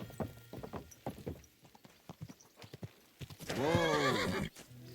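A horse in the medieval game Kingdom Come: Deliverance 2 clops along in a steady run of hoofbeats, then lets out a loud, close, quavering neigh.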